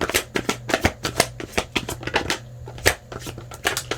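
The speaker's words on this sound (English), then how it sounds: "I'm just going to shuffle and just fill in the spread here" Tarot cards being shuffled close by, a rapid run of crisp riffling flutters and soft slaps repeating in quick bursts.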